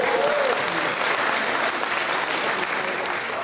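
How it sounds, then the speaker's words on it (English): A large audience claps loudly and continuously at a Christmas event opened by a radio host, a thick wash of many hands with faint crowd murmur beneath. "I bet you're clapping for the Christmas music"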